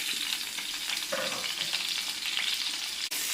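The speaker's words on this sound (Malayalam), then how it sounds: "ഇനി ഇത് നമ്മൾ ചൂടായ എണ്ണയിലേക്ക് ഇട്ട് കൊടുക്കാൻ പോകുന്നു" Brinjal pieces fry steadily in hot coconut oil, giving a dense, even sizzle that stays close and fairly loud throughout, with a brief stir near the end.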